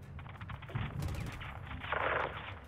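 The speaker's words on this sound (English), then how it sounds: "Oh my god, she's shooting." Gunfire from the Modern Warfare 2 campaign rings out in dense, overlapping bursts with a rattling automatic quality, loud and steady across the short stretch and swelling near the end.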